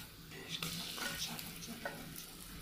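Ginger, green chilli and garlic paste frying in a pan while making a kadapa-style kushka, a steady sizzle with a few stirring scrapes, close and moderately loud, no talking.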